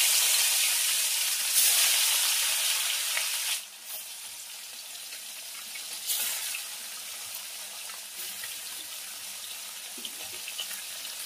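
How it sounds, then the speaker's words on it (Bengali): Amodi fish fry in hot oil in a kadai, a steady close sizzling hiss that is strong for the first few seconds, then settles into a quieter, continuous crackle. "এবার মাছগুলো ভেজে নেব"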